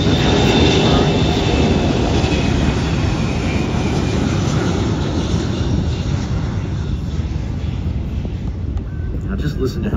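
A KC-135 jet aircraft rolls down the runway at an air show at MCAS Miramar, a loud, steady engine roar holding throughout, with wind buffeting the microphone and no break in the noise.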